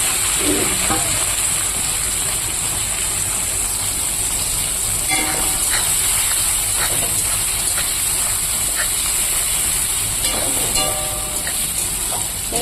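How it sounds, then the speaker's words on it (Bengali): Nutrela soya chunks fry in oil with cumin, giving a loud, steady sizzle with scattered spoon scrapes and clinks close by throughout. "নিউটেলাটাকে আমি একটু লাল লাল করে ভেজে নেব"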